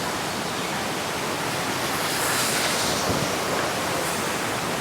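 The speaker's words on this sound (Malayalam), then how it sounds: "ആ ഒരു വെള്ളച്ചാട്ടം നമ്മൾ ഒറ്റയ്ക്ക് കണ്ടുപിടിച്ചിരിക്കുന്നു" Steady, dense rushing of a forest waterfall in Kollam, Kerala fills the scene evenly from start to finish, a broad roar of falling water with a faint breezy hiss.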